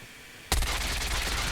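Burst of MAC-10 fire in Call of Duty Mobile, a sudden loud onset after a quiet moment that continues as dense rapid gunfire to the end, with no speech.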